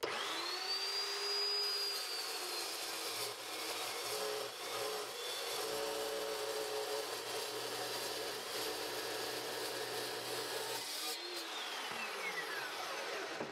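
An Evolution chop saw cuts through a steel train track, its loud, steady motor whine and grinding running continuously close by, then the motor spins down near the end.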